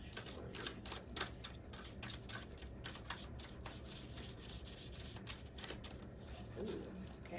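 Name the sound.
shuffling a tarot card deck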